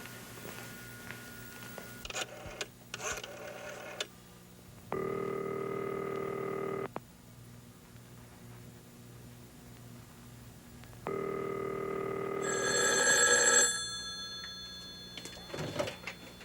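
A telephone used to call grandmother during a power cut: a few clicks of dialing, then two long steady ringback tones separated by a pause, followed by some faint handling clicks.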